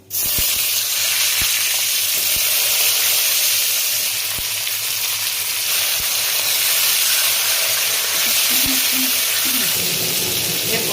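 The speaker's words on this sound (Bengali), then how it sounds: "হলুদ দিয়ে পটলগুলোকে ডিপ ফ্রাই করে নেবো" Pointed gourd (potol) deep frying in oil with turmeric, a loud, steady sizzling hiss with faint crackles and occasional pops, continuous and close throughout.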